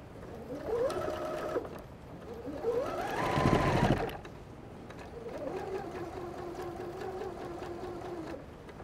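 A sewing machine stitching strips for a crazy patch, running in three bursts with rising and falling motor whine and rapid needle clatter, a loud thump in the middle, close up with no talking.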